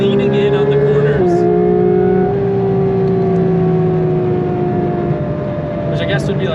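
Porsche 992 GT3 RS driven flat out on mountain roads in the Smokies, a loud high-revving engine holding a steady tone, then dropping in pitch after a shift and pulling again, heard from close inside.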